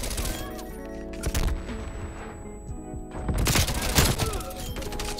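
Rapid gunfire with red tracer rounds in Call of Duty Cold War/Warzone, sharp repeated bursts at moderate loudness, with a quiet gap partway through before a denser volley of shots resumes.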